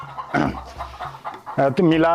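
Chickens clucking at a village poultry farm, several short clucks and calls close by, growing louder toward the end.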